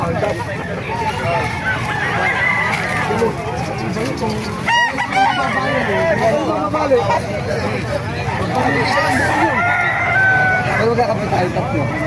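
Roosters crow repeatedly amid clucking chickens at a gamefowl farm in Calumpit, Bulacan, with people chatting throughout and a loud nearby crow cutting through the babble.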